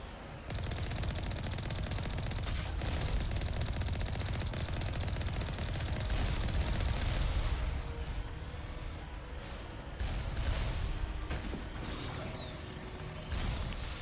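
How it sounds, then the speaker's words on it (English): Mass Effect Legendary Edition combat with turrets: dense, continuous rapid gunfire chatter filling the whole stretch, loud and sustained, with a few brief sharper impacts and fainter electronic tones toward the end. "Let's run away from these turrets."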